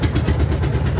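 A boat engine runs at the Gudhara ferry ghat in Narayanganj, giving a brief, steady, close low rumble with a quick rhythmic throb.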